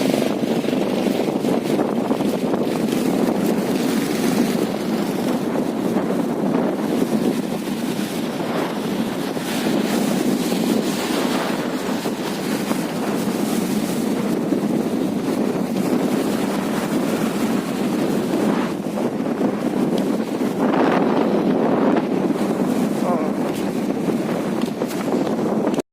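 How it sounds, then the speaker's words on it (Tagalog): Strong monsoon wind buffets the microphone in a constant roar while waves wash continuously along the shore at Pasacao fish port, Camarines Sur, Philippines. "Grabe ang alon."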